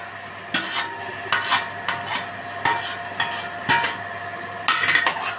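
Ginger garlic paste and boiled, mashed spinach being stirred in a pan: a run of sharp spoon scrapes and clinks against the metal at an uneven rhythm, close up over a faint sizzle, with no voices.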